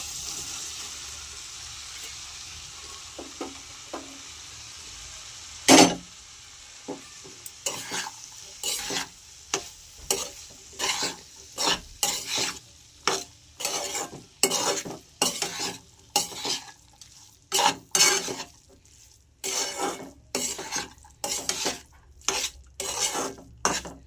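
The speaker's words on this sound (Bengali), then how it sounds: "এরপর আমি যে সিদ্ধ করা তরকার ডালটা সিদ্ধ করে রেখেছিলাম সেটা এবার সেই কষান" Boiled tarka dal is stirred into a sautéed spice mix in a pot, a metal spoon clanking and scraping in a steady rhythm of sharp strokes over a low sizzle.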